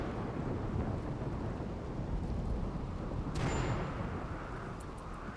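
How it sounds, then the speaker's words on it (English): A lightning strike in a RimWorld-style colony sim: a low, rumbling thunder roar over rain-like noise, with a brief sharp crackle partway through, fairly loud and sustained. "Fire? Oh, lightning strike."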